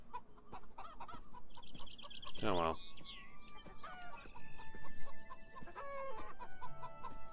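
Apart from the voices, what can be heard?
chickens clucking in the video game Beyond Eyes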